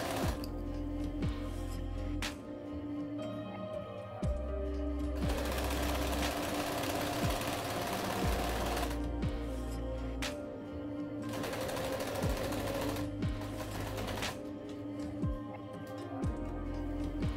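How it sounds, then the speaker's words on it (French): A sewing machine stitches a French seam on the right side of high-waisted shorts fabric, running in bursts of rapid mechanical clatter that stop and restart several times, close and clear with no voices. "je vais faire une première couture là sur l'endroit."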